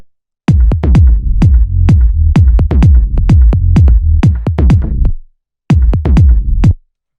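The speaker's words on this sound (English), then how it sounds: "we have a kick and then essentially like 4 bass sounds here." A loud, booming kick drum with four deep bass sounds in a quick, steady electronic rhythm. There is a short pause before a final few hits.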